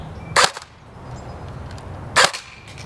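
Two sharp single shots from an S&T Tavor 21 airsoft rifle firing on semi-auto, close and loud, spaced almost two seconds apart over quiet room tone.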